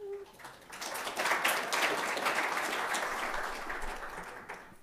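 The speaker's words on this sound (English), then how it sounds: "A round of applause before I've even started," A round of applause at a citizens' assembly swells quickly and holds steady, a dense wash of clapping from a room of people, then tapers slightly near the end.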